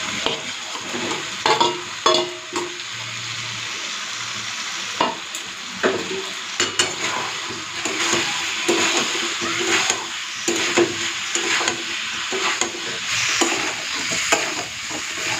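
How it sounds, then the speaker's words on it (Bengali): Potato and cauliflower pieces, already fried, are stirred in a spice masala in a pan, with repeated scraping stir strokes over a steady sizzle throughout, close and fairly loud, with no talking. "ফুলকপি আর আলু ভাজাটা দিয়ে মশলার সাথে ভালো করে কষিয়ে নিয়েছি"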